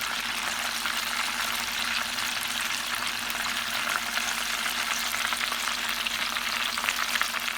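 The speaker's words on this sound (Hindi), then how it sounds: "मैरिनेटेड विंग्स को इस तरह दबाते हुए कोट कर लें और गरम तेल में डीप फ्राई कर लें" Marinated, coated chicken wings deep frying in hot oil, a steady close crackling sizzle that continues without a break.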